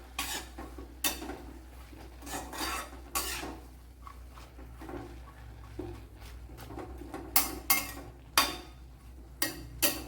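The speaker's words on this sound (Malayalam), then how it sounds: "ഇനി ഒന്ന് ഇളക്കി കൊടുക്കാം." A spoon stirs payar and vendakka curry in a pan, making a string of sharp scraping clicks against the metal in irregular bursts over a faint low background, close by and without speech.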